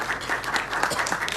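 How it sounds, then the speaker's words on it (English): Audience applause fills a press conference homecoming event for a pageant winner, a steady, dense clapping of a sizeable crowd heard close throughout. "Let's give a round of applause to Francis Chi"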